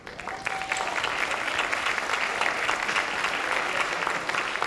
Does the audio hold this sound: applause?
yes